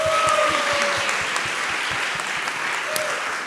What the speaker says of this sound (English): Yeah, clap your hands.